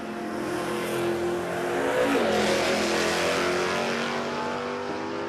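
Nitro funny car drag racer at Warwick Dragway in Australia on a shakedown pass, a loud, dense roaring engine swelling and sustained for several seconds, heard from a distance with no talk over it.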